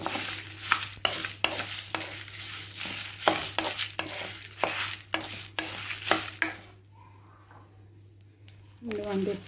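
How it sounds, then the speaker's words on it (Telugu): Curry leaves roast in a pan under rhythmic stirring, with repeated scraping and sizzling bursts. These stop briefly near the end before a voice speaks. "ఇదిగోండి కరివేపాకు కూడా వేసేస్తున్నాను."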